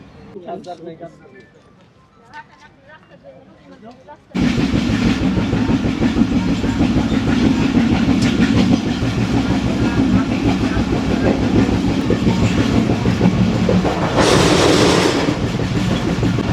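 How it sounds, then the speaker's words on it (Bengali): A passenger train pulls into a station on the Tangail to Dhaka line. A loud, steady rolling rumble with wheel clatter suddenly takes over after a stretch of voices on the platform, and talk carries on beneath it. "তো অনেকক্ষণ অপেক্ষা করার পরে ট্রেনটা কিন্তু চলে আসছে।"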